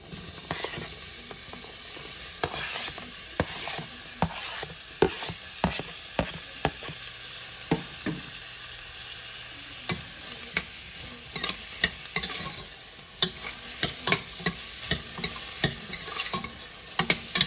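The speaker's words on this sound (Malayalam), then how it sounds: "അതിലേക്ക് ഞാൻ ചോപ്പ് ചെയ്ത് വെച്ചിരിക്കുന്ന ഒനിയനും കുറച്ച് തേങ്ങാക്കൊത്തും കൂടെ ഇട്ട് കൊടുക്കുകയാണ്." Chopped onion and coconut pieces fry in hot coconut oil for Kerala beef curry. A steady sizzle carries on throughout, broken by frequent sharp scrapes and clicks of a ladle stirring the pan close by, with no voices.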